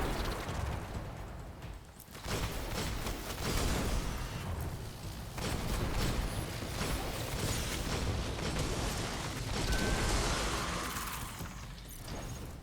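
Firefly explosions in Destiny gameplay during a solo Nightfall Strike, a dense run of loud bursts and crackling pops layered over continuous game noise with no pause.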